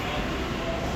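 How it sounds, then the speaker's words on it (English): A train arrives at a station in Japan, giving a steady broadband rumble of rolling wheels and carriages, close and constant throughout the brief moment. "I think that's my train."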